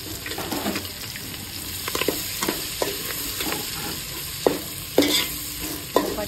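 Onion, green chillies and curry leaves frying for egg dum biryani, an oily sizzle broken by repeated sharp scrapes and clatters from stirring in the pan.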